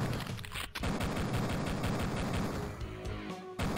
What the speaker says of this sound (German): Dann nehmen wir mal ein bisschen die Pistole.